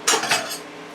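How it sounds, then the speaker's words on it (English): A utensil scrapes and clanks against a pan of roasting potatoes and tomatoes in a quick stir, two sharp metallic scuffs close up followed by a fading rattle. "let me give that a little stir"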